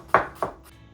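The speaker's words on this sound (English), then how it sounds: "the knife can ride on our knuckles without hitting our fingers" Two crisp knife chops through food on a cutting board, made with a claw grip, close and sharp, about a quarter second apart, then a faint third tap.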